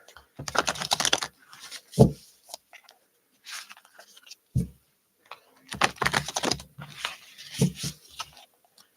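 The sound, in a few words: shuffling cards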